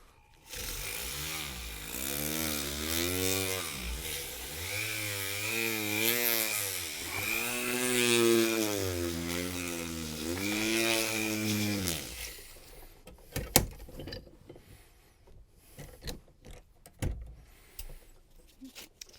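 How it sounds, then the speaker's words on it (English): A rotary tool spins a sanding mandrel, a piece of spring stock wrapped in sandpaper, against a 1911-style pistol part. It gives a steady, close whine that rises and falls in pitch for about twelve seconds, then cuts off into scattered light clicks. "I'm going to take carbide burr out and use my sanding mandrel, which is a piece of spring stock with some sandpaper wrapped around it"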